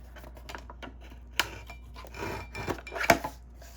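A blade cuts through vintage playing cards in short quiet scraping and rasping strokes, with a couple of sharper clicks as the card gives way, close and faint.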